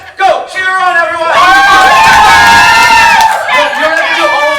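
An audience at a live gameshow cheers and whoops loudly, a dense burst of shouting voices that swells and holds for a couple of seconds before breaking into scattered yells.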